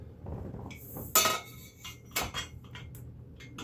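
A bolt and washer handled while assembling a Vevor miter saw stand, giving a few close metallic clinks and clatters, one sharp and loud, spaced irregularly against quiet.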